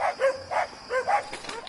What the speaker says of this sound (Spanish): Solo se escucha el ladrido de los perros.